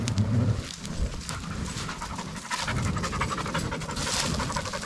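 A dog pants rapidly and steadily close by outdoors during a controlled burn along a fire break, its quick rhythmic breaths continuing over a rustling background.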